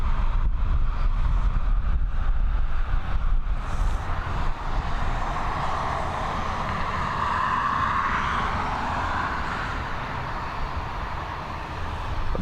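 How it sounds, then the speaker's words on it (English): A Boeing 737 MAX departing Dublin Airport for Palma, a broad, steady engine roar with a swelling rumble and some wind buffeting, heard from a distance without speech. "Here we go, FR9187, this Boeing 737 MAX, heading over to Palma in Mallorca."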